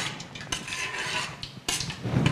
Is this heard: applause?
no